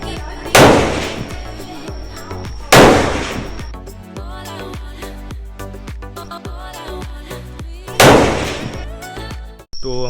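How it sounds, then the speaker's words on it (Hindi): Gunfire at a shooting range near the Cu Chi Tunnels in Vietnam: three loud, sharp single shots spaced a few seconds apart, each with a ringing decay, over a busy backdrop of clicks and clanks. "ये शूटिंग रेंज है, पहले कोची टनल से शूटिंग रेंज में आए हैं,"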